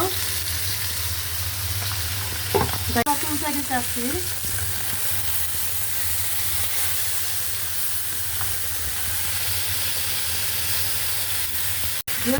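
River bata fish fries in a pan with a loud, continuous close sizzle and hiss, broken by a short burst of stirring and scraping early on.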